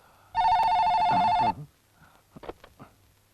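A telephone rings once in a single electronic trill, close and clear, followed by faint rustling and handling sounds.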